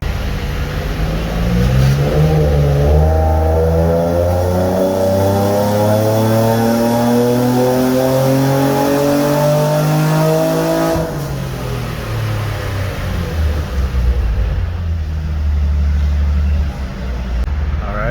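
Tuned car engine during a tuning pull, loud and close, its pitch climbing steadily through the revs for about ten seconds before dropping back to a rumbling idle.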